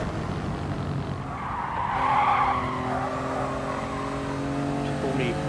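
A Toyota GR Yaris in Gran Turismo Sport slides with a sustained tire squeal over a droning engine, the screech swelling briefly mid-clip before settling into a steady skid.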